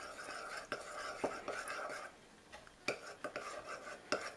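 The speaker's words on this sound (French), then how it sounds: "Et je vais commencer à mélanger." Glue is stirred to make slime, with faint, close, irregular scraping and tapping strokes of a utensil against a container, separated by short pauses.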